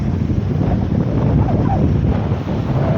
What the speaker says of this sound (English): It is so goddamn windy